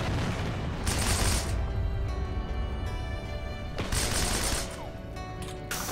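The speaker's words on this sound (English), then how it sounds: "This gun just sounds like it shoots so quick." Rapid automatic gunfire from a video game in a barnyard defense setting, loud bursts of very fast shots that start and stop abruptly, with stretches of quieter in-game sound between the volleys.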